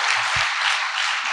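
A seated audience at a network marketing seminar gives a dense, steady round of applause. The hall fills with even clapping, with no voices over it.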